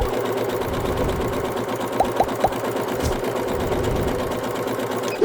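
Singer Heavy Duty 6805 sewing machine stitching with a twin needle, a steady, rapid mechanical whirring chatter that runs continuously throughout, with a few brief higher clicks partway through and no talking.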